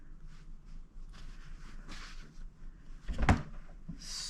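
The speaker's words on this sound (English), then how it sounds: "sorry for knocking the camera" A camera gets knocked during fabric basket sewing work, giving one loud, close thump with a rattling clatter about three seconds in, set among quieter handling rustles and faint room noise.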